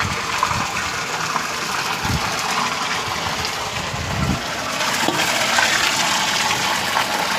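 An electric motor pumps water into a tank, producing a loud, continuous gushing rush of water with a low mechanical rumble that swells slightly toward the end.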